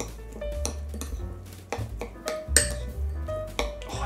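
Ingredients for a gluten-free ravioli filling are stirred with salt and olive oil in a bowl: repeated clinks and scrapes of a utensil against the dish, close and irregular, with no talking.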